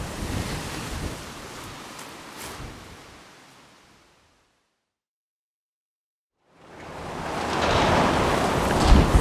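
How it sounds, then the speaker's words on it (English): Strong wind buffets the microphone at the seashore over breaking surf, a loud rushing roar that dies away into a few seconds of silence and then surges back even harder. "Man, this wind is really not dying down."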